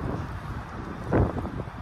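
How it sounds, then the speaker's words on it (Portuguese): Strong outdoor wind gusts buffet the microphone in a low, rumbling roar that swells briefly near the end. "Nossa, que ventão. Bem, eu vou ter que acabar esse vídeo, tá ventando demais."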